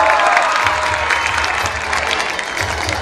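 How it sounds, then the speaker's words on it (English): Students give a teacher a big round of applause at a teacher felicitation ceremony: a dense, loud, steady crowd clapping that fills the whole stretch with no talk over it. "Please students, give a big clap to her."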